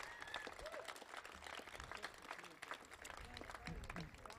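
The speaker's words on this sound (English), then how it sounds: "Liz Richards, who passed this bill and had a baby in the exact same week, and the Delaware Cares Coalition deserve a special round of applause" An audience at a Delaware paid family and medical leave bill signing applauds Liz Richards and the Delaware Cares Coalition, steady scattered clapping heard faintly at a distance, with some voices underneath.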